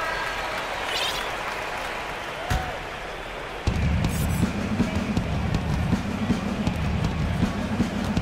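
A basketball arena crowd in the NBA 2K18 video game roars and cheers, swelling suddenly to a loud, sustained wash of noise that continues steadily.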